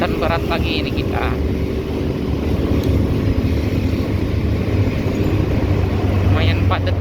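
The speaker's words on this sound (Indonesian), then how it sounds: "Bertemu dengan truk bermuatan berat lagi ini kita." Road traffic with heavily loaded trucks, including coal haulers, rumbles as a continuous loud engine drone from inside a moving vehicle on a busy road at dusk, with faint intermittent chirps over the steady low roar.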